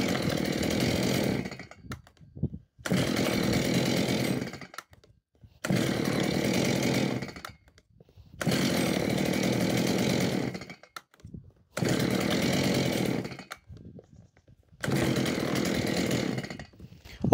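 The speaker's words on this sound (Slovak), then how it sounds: "Pílu teda vždycky nechávaj nejaký čas zohriať na voľnobehu," A Stihl MS 180 chainsaw engine runs in repeated bursts separated by short gaps, loud and close, revving up and dropping back several times.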